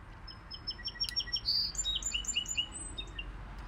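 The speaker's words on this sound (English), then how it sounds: "The birds want to sing too." Small birds chirp and sing outdoors in bright, repeated high tweets and trills, fairly close and steady over a low background hum, with no talking.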